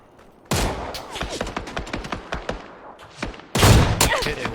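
Loud, close bursts of rapid gunfire in a video game shooter, with repeated rattling volleys and a heavier burst near the end.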